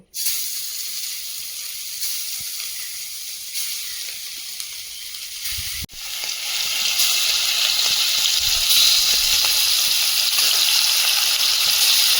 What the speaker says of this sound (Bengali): মাছ ভাজা একটা গ্যাসে হচ্ছে